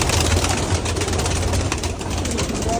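Pigeons cooing close by in a home yard, soft repeated low coos over a steady background hum, with no talk.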